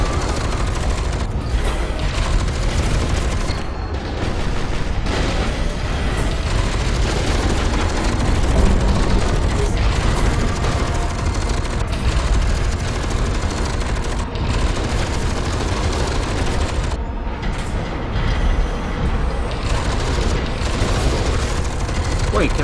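Sustained gunfire in the first-person shooter F.E.A.R. 2, with dense bursts of automatic shots and booming impacts forming a loud, continuous barrage for over twenty seconds.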